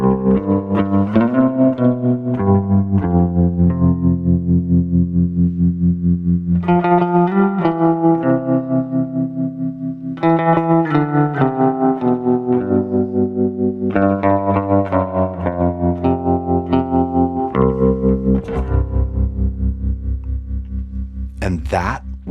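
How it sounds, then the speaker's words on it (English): Electric guitar with a tremolo effect pulsing over a long reverb tail: sustained chords ring out and swell, each decaying in a shimmering, rhythmic wash, loud and up close with no talking. "when I play, you hear the tremolo is affecting the reverb tail."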